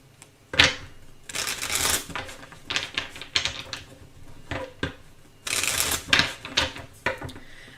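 A deck of cards being shuffled up close, with bursts of crisp riffling and fluttering snaps interrupted by short pauses, then several more quick riffles.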